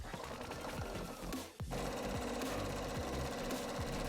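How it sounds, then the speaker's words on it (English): A sewing machine runs steadily, stitching around the edges of costume straps for a pet cosplay costume, with a rhythmic mechanical chatter that pauses briefly midway before resuming at close range. "I'm gonna sew around the edge of the straps, turn it inside out, top stitch, and add Velcro"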